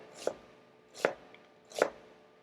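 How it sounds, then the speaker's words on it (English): An onion being cut with a knife, three evenly spaced chopping strikes about three quarters of a second apart, close and fairly quiet, with no talking. "You are not looking around while you're cutting up an onion."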